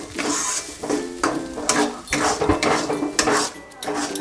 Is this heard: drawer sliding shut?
no